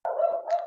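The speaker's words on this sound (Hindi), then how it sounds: "ये किसी ने आपके साइड पे कुत्ते बड़े जोर से भौंक रहे हैं," A puppy barks loudly at close range, one sustained, tonal yelping howl that holds steady for most of a second and gets slightly brighter near its end; no speech.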